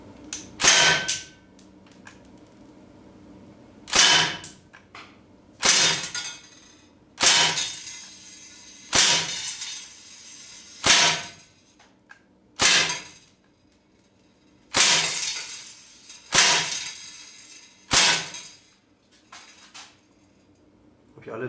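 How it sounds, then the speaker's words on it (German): A Heckler & Koch MP5 K-PDW CO2 BB gun fires steel BBs at a large tin can, about ten sharp, close snapping shots spaced a second or two apart, each with a brief metallic ring from the hit. "10 Schuss gebe ich jetzt mal ab."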